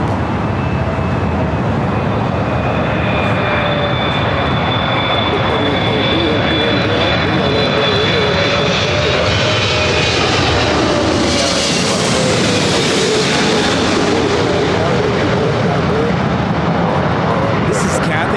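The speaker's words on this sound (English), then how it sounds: "This is Cathay Pacific Flight 882 coming in from Hong Kong on the 777 300ER." Cathay Pacific Boeing 777-300ER landing at LAX, a loud, sustained jet roar with whining engine tones that slide and shift as it passes close by, swelling midway, with talk partly over it.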